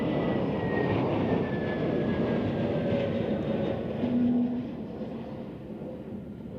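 An airplane lands at Zurich Airport in gusty crosswinds, giving a broad, steady engine roar and rushing air that swells slightly and then eases as it passes, with no voices.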